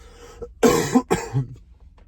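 Two short, hoarse coughs from a person with a stuffy nose, close to the listener, followed by a brief throaty rasp.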